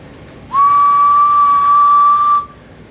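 A single steady whistled tone holds for about two seconds, loud and close, through a tuned Cobra 29 SE CB radio, with a slightly hissy, radio-like background.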